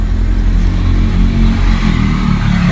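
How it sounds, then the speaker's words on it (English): A Hyundai Accent engine, running poorly after a head gasket repair, idles loud and close with a steady low rumble and slight clatter, settling without revving, no talk. "And now the idle is getting back down to normal."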